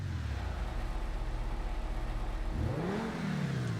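A supercar engine in GTA Online drones steadily under driving, then revs upward in a rising swell near the end, close and continuous with no talking.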